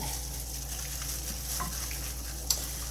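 Stew meat, some pieces with bone in, is stirred and tossed in a large bowl, giving soft wet squelching and scraping sounds, with a brief sharp clink near the end.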